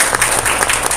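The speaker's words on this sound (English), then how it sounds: "So let's give her a round of applause for" Brief applause during a town board of aldermen meeting, a short burst of clapping from a modest audience in a meeting room, close and fairly loud.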